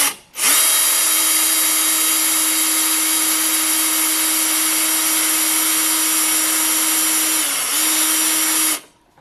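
A power drill fitted with a center drill bit runs steadily into a car dash panel, a loud continuous whine with a steady pitch that dips briefly near the end before stopping, with no talk.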